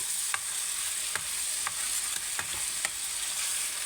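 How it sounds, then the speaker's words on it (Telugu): Telangana-style eggplant curry stirred in a pan, a steady sizzle with regular spoon scrapes and knocks about every half second, close and without voices. "అంతా మంచిగా మిక్స్ అయ్యేటట్టు ఇలా కలుపుకోవాలి."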